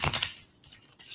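A Spellcaster's Tarot deck being shuffled by hand, giving soft papery riffles and slides in short bursts with a pause between, close and faint.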